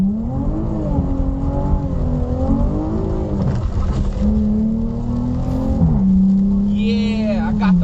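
A car engine drones and revs along a road while drifting, its pitch rising and falling with a sustained tire-like whine near the end.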